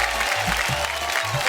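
Loud, sustained audience applause from a studio crowd at a televised game show, dense continuous clapping with no one speaking.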